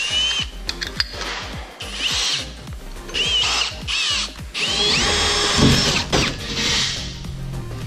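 A power drill cuts a 2 9/16 inch hole with a hole saw during a CNG bi-fuel conversion on a 2017 Ford F-150, whining loudly and close in uneven bursts with short pauses and a gritty cutting rasp.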